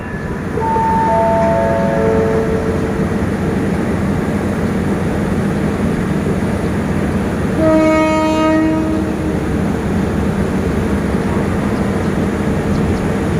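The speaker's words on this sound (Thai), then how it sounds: "รับขบวนรถเร็วขบวนที่172เมื่อออกจากสถานีราชบุรีไปแล้ว" Express train no. 172 pulling out of Ratchaburi station on an uphill grade, with a steady rumbling roar of rolling stock and two loud horn blasts, one early and one midway, that ring out clearly over the rail noise.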